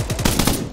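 Rapid automatic gunfire in the ArmA 3 military video game, a close, loud string of about six evenly spaced shots with no voices over it.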